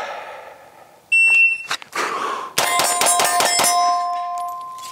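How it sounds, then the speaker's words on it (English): A Shooters Global shot timer gives a single sharp, loud electronic beep, followed moments later by a burst of rapid, ringing shots from a Sig P365 Fuse pistol. "Also running the new Shooters Global shot timer here, and much louder."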